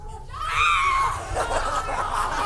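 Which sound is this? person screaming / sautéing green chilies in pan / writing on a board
person screaming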